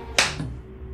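A single sharp hand clap rings out from a played video. It is one brief, bright snap against a low steady background hum.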